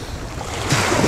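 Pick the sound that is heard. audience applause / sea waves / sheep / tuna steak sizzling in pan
sea waves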